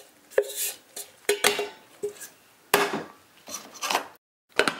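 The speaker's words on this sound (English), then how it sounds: "Dump all of our wax in." Soy wax flakes (Titan 5230) tipped into a wax melter, giving several loud, close clattering pours and knocks in irregular bursts with brief pauses between.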